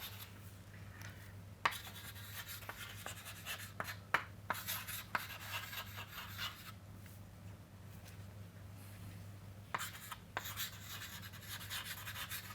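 Writing on paper or a board during a lecture on input-queued switches, with faint scratching strokes and occasional sharp taps over a steady low hum, no speech.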